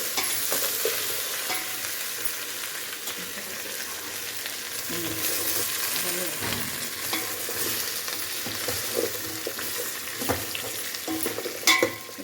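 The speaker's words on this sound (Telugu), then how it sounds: "ఫస్ట్ నేను ఒకసారి కలుపుకొని కొంచెం మగ్గనిద్దాం" Sambar masala with fresh coriander being stirred and simmered for a mango sambar, a continuous soft sizzle threaded with repeated scraping stirs of a spoon against the pan, no voices.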